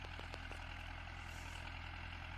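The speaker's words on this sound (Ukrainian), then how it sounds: "Оремо трактор UMZ6 двома 35 корпусами з передплужниками." An UMZ-6 tractor ploughing at night, pulling two 35 ploughs fitted with skimmers, gives a steady, continuous engine drone with a low rumble that holds even throughout, with a few faint clicks early on.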